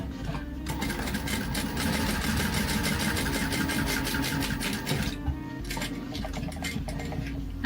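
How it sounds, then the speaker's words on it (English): A sewing machine runs steadily, top stitching a card slot on a leather bifold purse, with a continuous mechanical whir and rapid needle clatter that holds nearly throughout, pausing briefly near the end. "I'm gonna just top stitch first card slot on this side"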